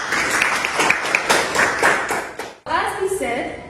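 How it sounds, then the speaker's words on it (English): A class claps for a student after a presentation with a short burst of applause mixed with voices, then a teacher's voice takes over. "Clap for Vidas."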